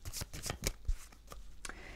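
Oracle cards being shuffled by hand give a series of soft, quick riffling and slapping bursts, about six or seven short swishes close to the ear, quiet and with no talking.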